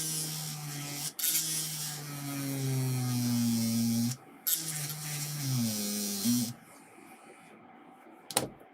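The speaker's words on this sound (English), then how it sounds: "Find a grinder first. Probably just blow out the trace here." A small rotary grinder cuts through a circuit board trace during a Mega Drive RGB modification, a steady high whine running in two long bursts that shift pitch under load, then cutting off near the end.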